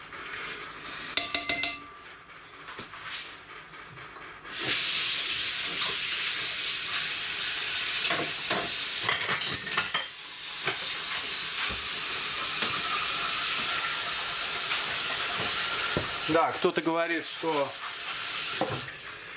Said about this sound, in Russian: Я наливаю в раскаленный казан, как вы видели, я его уже сполоснул под холодной водой.